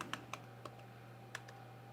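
Keys on a computer keyboard are tapped in a quiet, sparse burst of about six close, distinct clicks with uneven gaps, over a low steady hum and no talking.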